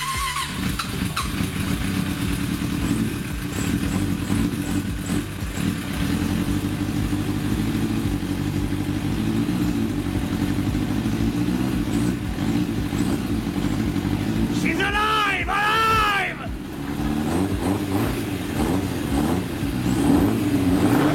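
A Suzuki GSX-R 750cc motorcycle engine runs loud and steady throughout with a rough, rumbling roar, while a voice briefly rises over it near the end.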